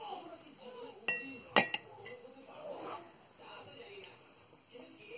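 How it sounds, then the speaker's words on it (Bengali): A spoon clinks against a dish while mango mousse is tasted, one sharp close clink followed by a smaller one, with a person talking softly around it. "এটা চামচ দিয়ে একটু খেয়ে দেখতেছি এটা কেমন মিষ্টি হয়েছে"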